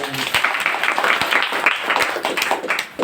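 Audience applauding after a sermon at a religious gathering; steady, moderately loud clapping from a crowd, continuous for a few seconds before tapering off briefly at the end.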